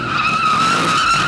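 Race car doing a burnout at a ride-along racing event, tyres skidding and squealing in a loud, steady screech with engine roar underneath, continuous and close throughout.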